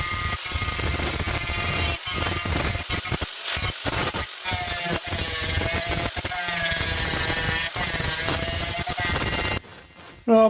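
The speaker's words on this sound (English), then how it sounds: "I should put a sanding disc or something on it," Power sanding disc grinding down a classic car door, a loud, continuous harsh whir with rasping texture that runs steadily before cutting off near the end.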